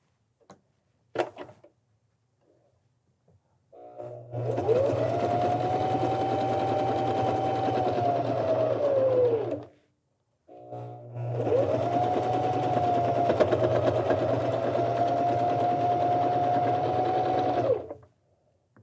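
A Janome 725S sewing machine stitching fabric in two long, steady runs of fast mechanical whirring separated by a brief pause, preceded by a few light clicks and handling sounds.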